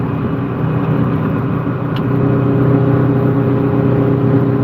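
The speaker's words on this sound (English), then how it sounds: "This truck has an 1892 Silver 2-stroke motor in it." A truck with an 1892 Silver two-stroke motor running, a loud, steady engine drone from inside the moving vehicle that swells slightly toward the end.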